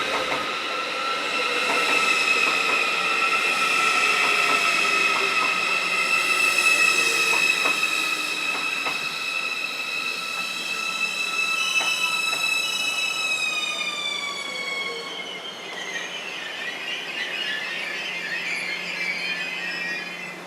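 An intercity passenger train bound for Hamburg rolls steadily past at Landquart, Switzerland, with rumbling wheels and long, high metallic squeals that bend and fade, loud throughout with no voices.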